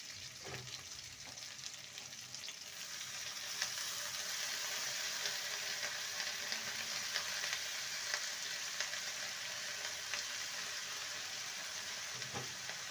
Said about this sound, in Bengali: এবার কেটে রাখা পালং শাকগুলো দিয়ে দেবে